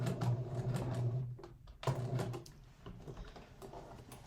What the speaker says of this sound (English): I would just continue to sew the hem of the jeans.